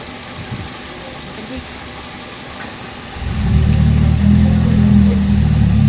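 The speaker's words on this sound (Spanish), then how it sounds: "Como se observa, el motor está encendido, y al momento de desconectar vamos a ver cómo se apaga el..." A car engine on a workbench test with its fuel pump relay connection, quiet at first, then a loud steady idling rumble kicks in about halfway and runs close and continuous to the end.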